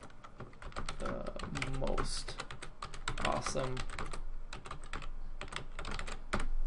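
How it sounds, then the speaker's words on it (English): Rapid clicking of computer keyboard keys while text is entered into a Google Slides presentation, steady irregular taps close to the microphone with a voice speaking over the typing. "I'm going to type in"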